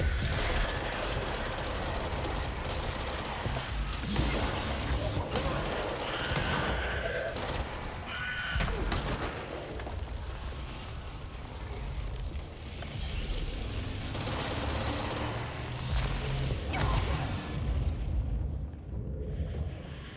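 Dense, continuous gunfire and booming blasts from the video game Control, loud and near, with rapid bursts layered over rumbling impacts for the whole stretch before tailing off near the end.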